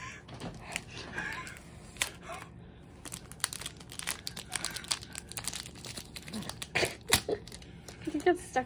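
A 1983 Donruss baseball card pack wrapper crinkles and tears as it is opened, with close, sharp crackles and rustles scattered irregularly throughout, growing busier toward the end amid a faint background.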